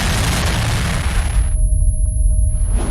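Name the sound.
explosion sound effect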